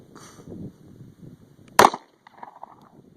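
One sharp gunshot cracks at an outdoor shooting range. Soft murmuring voices come before it and a faint ring follows.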